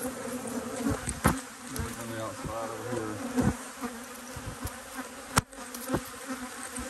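Honey bees buzz steadily throughout an open hive inspection in an apiary, a dense close drone with occasional sharp knocks and handling noises over it.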